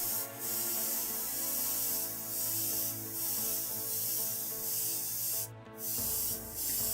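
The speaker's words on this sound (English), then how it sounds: "Now I'm spraying black over this white area." An airbrush hisses steadily while spraying black paint over a white area of a monochrome airport model, a continuous broadband spray with brief pauses and a short break near the end, over a low hum.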